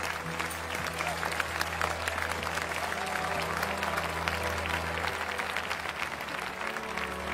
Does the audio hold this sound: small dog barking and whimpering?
no